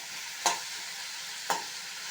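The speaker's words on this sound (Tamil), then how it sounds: "மூடியை திறந்துட்டு மறுபடியும் நல்லா வதக்கி விட்டுருங்க" Chopped chayote sautéing in a pan with a steady soft sizzle throughout, broken twice by a sharp scrape of a spoon stirring, close-up with no talk.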